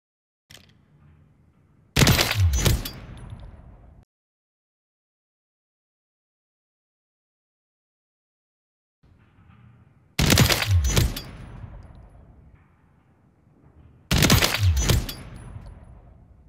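Three bursts of rapid automatic JAK Headhunter gunfire ring out on a video game firing range, each a loud sharp volley of about a second or two with a fading echo tail, separated by silence.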